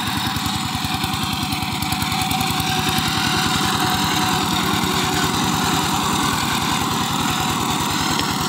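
The 12 HP diesel engine of a power tiller chugs steadily nearby, a loud, fast, even knocking pulse that runs unbroken throughout with a rattling mechanical buzz on top.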